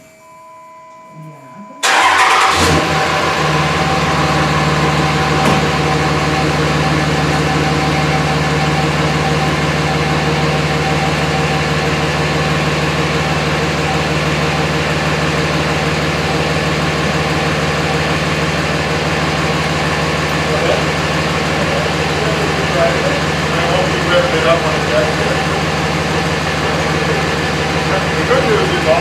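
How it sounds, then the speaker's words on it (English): A 2006 Ram Turbo Diesel with a newly fitted cat-back exhaust cranks briefly, catches, and settles into a loud, steady, rumbling diesel idle that holds for the rest of the clip. "we're going to give it a start up and check it for leaks"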